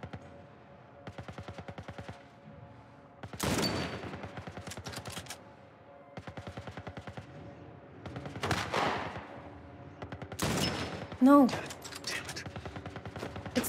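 Gunfire in The Last of Us Part 1, repeated bursts of rapid shots in several clusters, with louder single blasts and some background sound between volleys.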